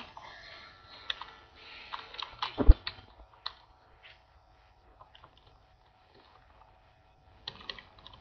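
A computer keyboard clatters with rapid typing and scattered key clicks during a Skyrim gaming session. The taps are close and moderately loud, then thin out into sparse clicks before a final short burst.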